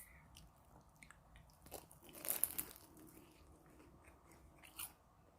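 A crunchy fried shrimp egg roll is bitten into, giving a single close crisp crunch in the middle, followed by faint soft chewing and rustling in an otherwise quiet room.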